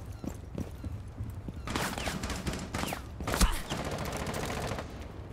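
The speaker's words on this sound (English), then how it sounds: "They're trying to shoot from the window." Video game gunfire crackles in rapid bursts, denser in the middle with one heavier blast, mixed with a busy background of game noise.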